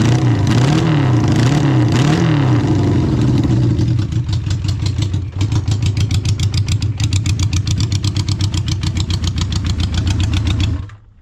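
A 1972 Honda CB500 Four motorcycle engine with a fuel problem runs rough up close, first revving unevenly with surging pitch, then settling into a loud, lumpy idle with irregular pulsing firing before cutting off.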